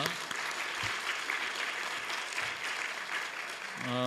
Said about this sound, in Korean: 우리 격려의 박수 한번 주시겠습니다.